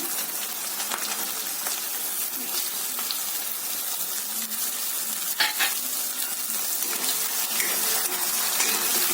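Vegetables fry in a pan for vegetable biryani, a loud, continuous hiss and crackle of sizzling oil with occasional sharper pops, close and steady throughout.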